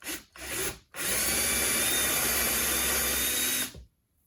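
Power drill with a 3/8 inch bit starting a carriage bolt hole in wood, two short bursts followed by a steady, loud, grinding run of about three seconds before stopping abruptly.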